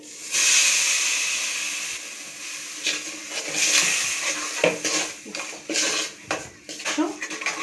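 Ground coconut and tomato paste goes into a hot pan for a fish tawa fry curry, with a burst of hiss followed by clattering utensil scrapes and knocks against the pan, fairly close and uneven.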